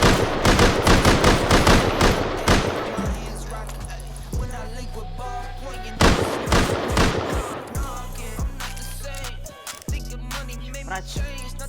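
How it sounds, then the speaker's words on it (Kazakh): Rapid bursts of revolver gunfire in the survival video game Rust, loud sharp cracks in quick strings, pausing between volleys while background music and occasional talk continue. "ар жақта атысып жатыр питончиктер"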